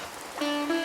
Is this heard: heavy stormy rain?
yes